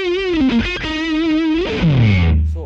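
Distorted electric guitar through a Mooer Radar speaker simulator: sustained bent notes with vibrato ring out loud and close, ending in a low sliding note as the sound fades, with no talking.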